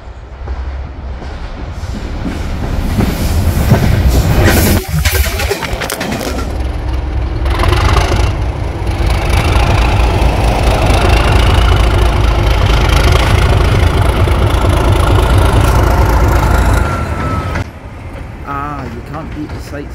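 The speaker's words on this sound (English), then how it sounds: "66743 passes Alness with the empty coaches of the Royal Scotsman between Dingwall and Invergordon." Class 66 locomotive 66743 hauls the empty Royal Scotsman coaches past Alness between Dingwall and Invergordon. Its loud, close diesel rumble and clattering wheels roar steadily, then drop off sharply as the train passes.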